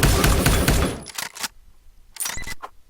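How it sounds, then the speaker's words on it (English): An assault rifle fires in Neon Chrome, a dense, loud burst of rapid shots in the first second that trails off. A couple of fainter, clipped clicks and impacts follow after a short gap. "I'll be sticking with my assault rifle."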